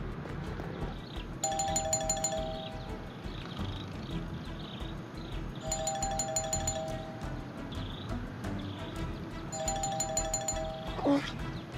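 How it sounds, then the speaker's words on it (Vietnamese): A doorbell rings three times at regular intervals, each a clear bright electronic ding-dong chime standing out over faint background noise. "Bạn đừng có bấm chuông nữa, từ từ người ta ra mà"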